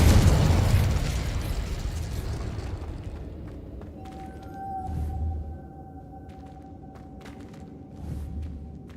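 A Confringo blasting spell in Hogwarts Legacy goes off as one loud, booming explosion right at the start, rumbling away over a couple of seconds, followed by a steady tonal hum and two softer low thuds later on.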